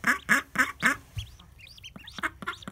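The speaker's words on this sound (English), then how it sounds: "we have ducklings" Newly hatched ducklings from a natural hatching give a run of four loud, quick peeps up close, then fainter scattered chirps and small rustles follow.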